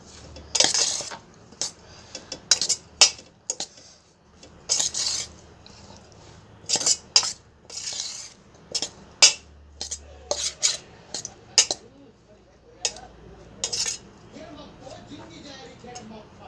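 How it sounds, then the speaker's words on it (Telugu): A spoon clinks and scrapes against a dish while grated raw mango is mixed into cooked rice for mango pulihora, making irregular close taps and soft squishing with quieter stretches between them. "ఈ మ్యాంగో తురుమంతా అన్నానికి అప్లై చేసుకోవాలి మంచిగా."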